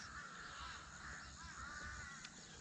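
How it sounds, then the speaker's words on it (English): Crows caw repeatedly in the morning, harsh calls coming from a moderate distance over faint outdoor background noise. "Those crows are awfully vocal this morning."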